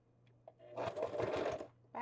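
A sewing machine stitching through a handmade altered journal, a short near whirring run of rapid needle strokes after a couple of faint clicks, with a new start at the end.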